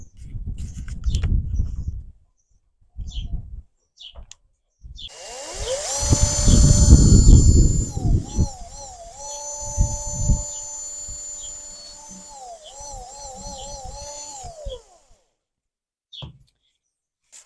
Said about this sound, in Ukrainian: Просверлили ось такі дірочки. Це можна робити не тільки шуруповертом